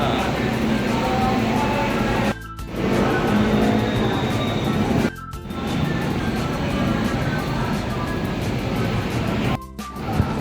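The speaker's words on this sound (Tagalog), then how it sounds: "Ayan yung mga train. LRT 1 naman dito." An LRT Line 1 light-rail train in Manila rumbles steadily nearby, a loud, continuous broadband roar of wheels and motors broken by a few brief dropouts, with faint voices in the background.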